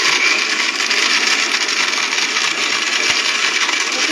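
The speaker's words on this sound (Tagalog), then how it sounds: "Ngayon, ang gagawin ko ay, i-blender ko na to." An electric blender grinds organic tobacco leaves, a loud, steady high-pitched whir running without a break, close and alone.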